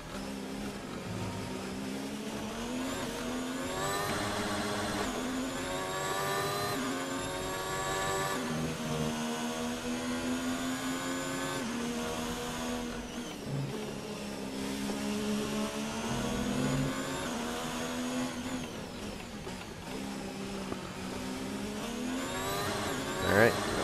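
Formula 1 car engine from the racing game F1 19 on a flying lap, a steady high-pitched whine rising and falling through gear changes for the whole stretch, loud and continuous with no pauses.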